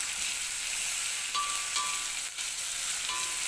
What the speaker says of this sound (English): you wait for the oil to heat up, and then you go in with the onions